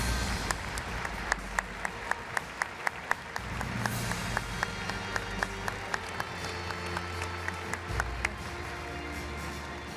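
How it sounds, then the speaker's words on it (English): Audience applause for honored guests at a world leaders panel, dense sustained clapping with a few sharp nearby claps punctuating the crowd, under a low room hum, continuing for about ten seconds. "Ladies and gentlemen, a round of applause for our honored guests."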